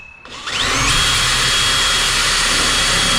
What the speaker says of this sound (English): And then I'm just gonna drill down.